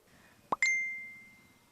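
A phone's message notification gives one bright ding that rings and slowly fades, just after a soft plop, against a quiet room.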